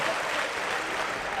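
A packed wrestling crowd in Newcastle cheers and claps during a match, a dense, steady wash of applause and noise at moderate loudness with no break.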